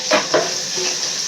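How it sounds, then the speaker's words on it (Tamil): Onions sautéing in a pan for a paneer biryani, a steady close sizzle punctuated by two quick scraping stirs of a utensil at the start, with no talking. "வதங்கட்டும், வெங்காயம் வதங்கட்டும்."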